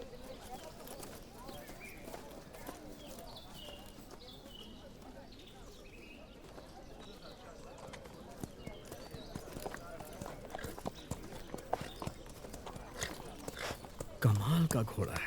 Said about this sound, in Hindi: कमाल का घोड़ा है।